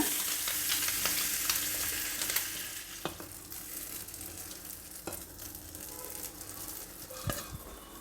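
Butter paddu batter sizzles steadily in a hot buttered paddu pan, a continuous close frying hiss with scattered pops and small clicks throughout, no voices.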